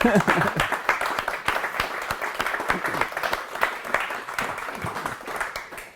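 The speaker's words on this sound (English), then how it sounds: "can we clap for that?" Audience applause at a startup entrepreneurship talk in El Paso, a steady stretch of dense clapping from a crowd that fades slowly, with some voices talking underneath.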